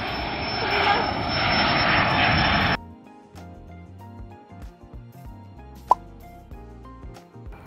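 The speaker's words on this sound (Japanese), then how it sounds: "飛行機飛び立つ、飛行機飛び立つ。" An airplane takes off from Takamatsu Airport, a regional airport in Japan, with a loud, broad engine roar for about three seconds that cuts off abruptly, followed by quiet background music and a single sharp pop.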